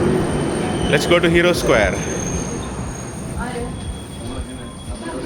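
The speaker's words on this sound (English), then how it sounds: "That's the metro station. It's in Metro Line M1." A Budapest Metro Line M1 train at the Hősök tere station, with rumbling rail noise and a brief wheel squeal near the start. It runs steadily underneath people talking throughout.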